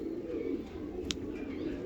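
A female loft pigeon gives a soft, faint coo, brief and low, against a quiet, steady background with no voices.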